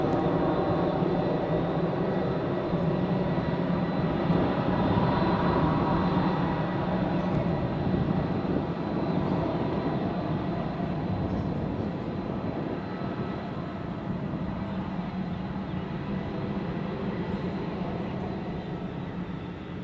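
An EasyJet airliner taxiing at Madeira Airport gives a steady, broad jet-engine roar that stays loud and continuous throughout, easing off only slightly toward the end.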